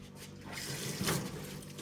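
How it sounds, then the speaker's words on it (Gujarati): A glass is filled with a steady, soft stream of water from a tap at a public drinking-water stand near a small hill temple, with no voices. "હા તો પી લો ને ગ્લાસ ભરી દે"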